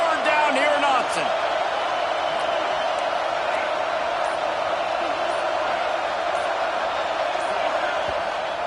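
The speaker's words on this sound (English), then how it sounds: "Stadium this size makes so much noise" Loud, steady roar of a big football stadium crowd at Autzen Stadium, a dense wash of voices and cheering filling the whole stretch, with a brief burst of whoops near the start and a commentator talking over it.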